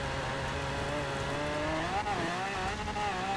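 A car engine in Forza Horizon 4 drones steadily throughout, its pitch sliding and wavering as the car is held in third gear, loud and continuous with no voices over it.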